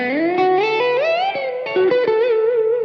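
An electric Telecaster guitar plays a fluid blues-influenced lick with bends and slides, notes connecting smoothly, through distortion and an effects unit with a touch of reverb, loud and alone.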